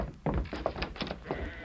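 Sheep bleating in a flock in an old radio drama, several short wavering bleats overlapping in an irregular rhythm against a low dull thud, moderately close.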